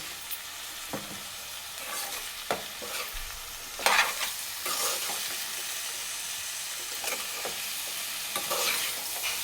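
Carrot curry with onion, chilli powder and salt frying in a pan, stirred with repeated scraping strokes over a continuous close sizzle, with a louder burst of stirring near the middle and no talking.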